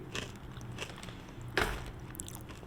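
Crunchy raw cauliflower bitten and chewed close up, a faint crisp crunch with one sharper bite, quiet mouth sounds and no talk.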